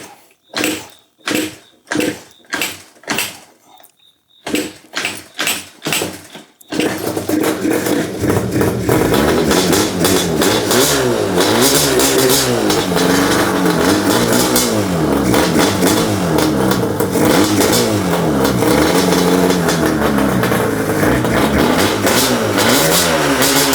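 A Yamaha Banshee two-stroke, restored after years of abuse and running on 93-octane pump gas, is kicked over in a series of rhythmic cranking strokes, then fires and revs loudly and continuously, its pitch rising and falling with the throttle.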